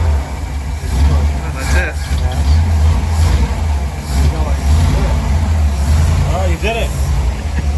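A classic 1957 Ford Thunderbird engine catches and settles into a steady, loud idle with a deep rumble, heard close throughout while people talk and cheer over it.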